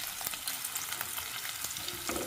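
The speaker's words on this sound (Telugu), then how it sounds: "ఇప్పుడు మనం కట్ చేసి పెట్టుకున్న బ్రెడ్ పీసెస్ ఉంటాయి కదా, కొద్దిగా తీసుకొని ఫ్రై చేసుకుందాము." Bread pieces fry in hot oil with a bright, hissing sizzle and small crackles, short and close.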